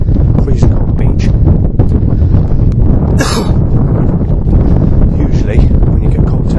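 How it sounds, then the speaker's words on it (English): Strong cold wind blowing outdoors as if beside a freezing beach, a loud, constant buffeting roar across the microphone with rustling gusts throughout. "It seems to be windy and cold."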